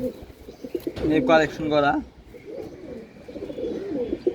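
Pigeons kept at home, including silver-grizzle cocks and hens, coo in low rhythmic bursts close by while someone talks over them throughout.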